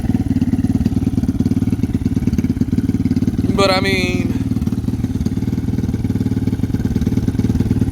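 A Lifan KP Mini 300 motorcycle with a ZS175FMN four-valve engine and custom exhaust runs with a steady, loud, buzzing engine drone throughout, while someone speaks briefly and a short squeaky sound rises over it midway.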